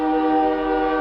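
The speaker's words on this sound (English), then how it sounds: "here comes my train friend" A BNSF freight train's horn blares in one sustained, steady chord, loud and close, with rumbling rail noise underneath and no talking.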